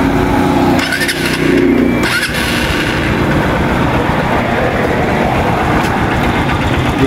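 A car engine runs steadily and loudly nearby, with a faint ticking rattle that shows up when cold, and a couple of brief shifts in tone near the start.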